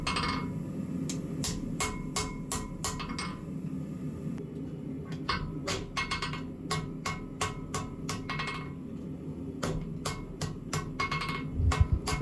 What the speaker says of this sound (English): Here I'm actually using a wooden mallet to straighten out that area above the Ricasso